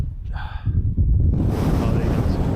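Freezing wind gusts roar across a wild camp on Saddle Yoke in the Southern Uplands. A muffled buffet comes first, then a loud, sustained rush batters the microphone.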